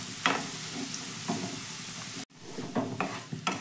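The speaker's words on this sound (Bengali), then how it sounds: "এবার একটু উল্টে পাল্টে লালচে করে ভেজে নেব।" Half-boiled potatoes fry in oil in a kadai with a steady sizzle, turned over by a utensil in a few scraping strokes, with a brief cut partway through.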